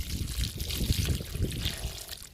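Liquid fertilizer made from vegetable peels trickles and splashes steadily onto a flowering potted plant, a close, continuous pouring sound with no talking.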